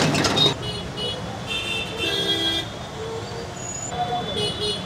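Car horns honking in busy street traffic on Hill Cart Road in Siliguri, a loud horn blast at the start and further toots coming and going over a steady roadway rumble, with voices talking nearby.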